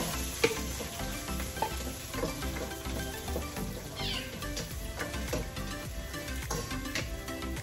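Garlic and onion sautéing in a pan, a continuous crackling sizzle with scattered clinks and scrapes of stirring, moderately close, and no talk over it.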